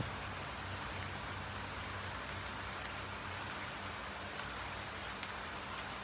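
Steady rain pours at night during a wet evening in rural Bangladesh, a dense continuous hiss of drops hitting surfaces, even and unbroken with no voices.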